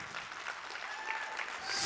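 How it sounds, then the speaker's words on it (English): An audience at a church sermon claps its hands in steady, dense applause for the whole stretch, growing louder toward the end. "Clap your hands"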